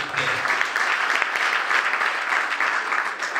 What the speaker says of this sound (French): Veuillez applaudir s'il vous plaît.